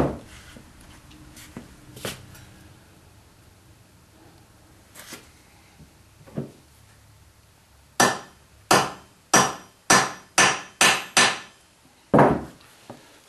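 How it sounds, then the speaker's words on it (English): A steel snare cable gets cut outdoors, a few faint clicks early on, then a rapid run of sharp, loud metallic snaps and strikes close by, about eight in quick succession. "Gotta cut a little off of this cable."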